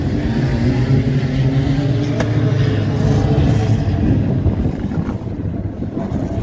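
Stock cars starting a race at Warton, engines droning loudly and steadily together as the field pulls away at the start of the Mid Winter Open, with heavy wind rumble on the microphone.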